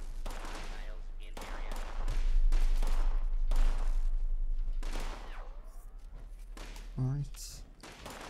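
Automated turret gunfire in Fallout 76, bursts of rapid shots rattling in clusters with thuds between them, heard under someone talking over the game action.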